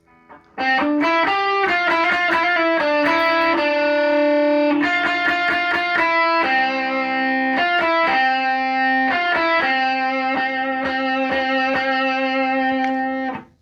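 A distorted electric guitar plays a fast solo, rapid, sustained notes, loud and continuous throughout with no talking.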